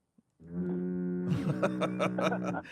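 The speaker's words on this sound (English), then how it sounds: "That sounded like a foghorn, Barney." A deep, foghorn-like tone carries over a phone line after a brief click, a steady low drone with harmonics that swells and wobbles, holding loud and continuous for about two seconds.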